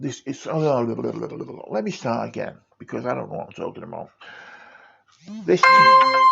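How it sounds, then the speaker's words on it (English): A mobile phone rings with a bright, chiming ringtone inside an underground tunnel, sounding loud and close at the end, just after a stretch of someone talking. "that's my phone"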